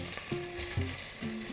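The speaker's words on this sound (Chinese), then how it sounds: "就立刻下猪蹄" Pork trotters sizzle loudly in rock sugar caramel in a wok, a dense, crackling frying hiss with low bubbling bursts throughout.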